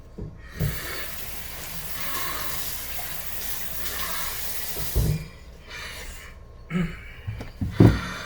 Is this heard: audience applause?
no